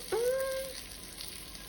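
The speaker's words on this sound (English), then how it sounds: "Let them add in there, let them get some sizzle." Soft, steady sizzling of shrimp frying in butter in a hot pan, with a brief high squeak near the start.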